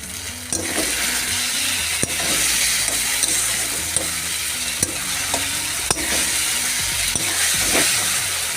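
Chopped green chilli, ginger and garlic frying steadily in a pan, a continuous close sizzle with spoon scrapes and taps against the metal recurring throughout.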